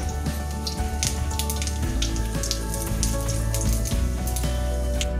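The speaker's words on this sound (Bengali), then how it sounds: "ফোড়নের মশলা ভাজা হয়ে এলে" Bay leaf, dried red chilli and whole cumin sizzle and crackle in hot mustard oil, a dense continuous frying hiss with scattered pops, close and steady without speech, for Bengali ash gourd and prawn ghonto.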